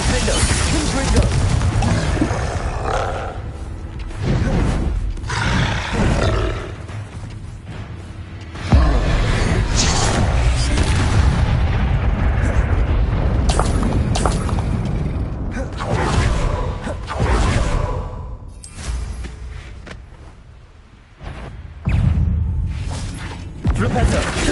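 Confringo spell blasts burst repeatedly in Hogwarts Legacy combat, loud booming explosions and crashes under excited talking across the whole stretch.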